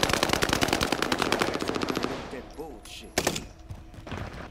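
Rapid bursts of automatic gunfire in a zombie video game rattle loudly and densely for about two seconds, then drop to scattered shots with a final sharp burst, while players talk over the action.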